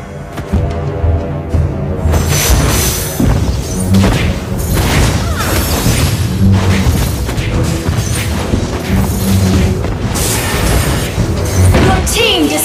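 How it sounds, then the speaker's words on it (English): A turret is destroyed in Mobile Legends, heard as loud booms and crashes over steady game music and effects. "Your team destroyed a turret!"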